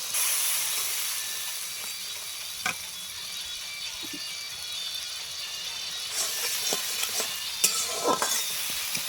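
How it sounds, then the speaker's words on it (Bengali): Water poured into a hot pan of potato and pointed gourd curry with prawns sets off a loud, sustained sizzling hiss, followed near the end by a few scraping stirs. "এবার একটু জল দিচ্ছি।"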